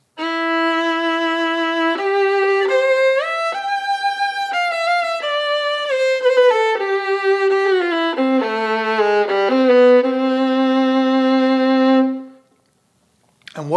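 Violin plays a slow melodic line with wide, even vibrato on sustained notes, bowed close and solo for about twelve seconds before stopping.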